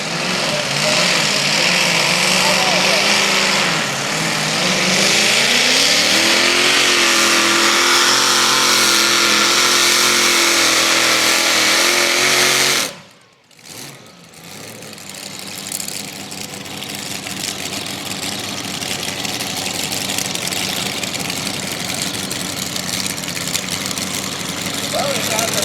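A modified pulling tractor or truck engine roars at a truck and tractor pull, holding a loud, steady high-revving drone, then briefly cutting out and returning as a sustained rumble.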